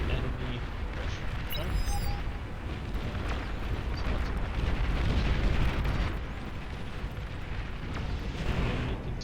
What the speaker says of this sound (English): The enemy continues to bombard here.